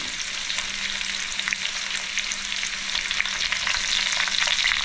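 Onion and ginger frying in a hot pan with a steady, loud sizzle and crackle that continues throughout, with occasional stirring scrapes and no voices.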